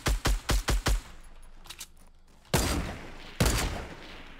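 Gunfire in the Fortnite video game: a rapid burst of five sharp shots, a pause with faint clicks, then two heavy booming blasts like shotgun fire, loud and close, no speech.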